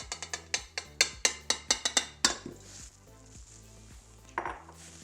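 Powdered sugar, vanilla and orange juice for blondie bars go into a bowl amid quick, sharp clinks and taps of a utensil against the bowl, a dozen close knocks followed by quieter scraping and a few softer clinks.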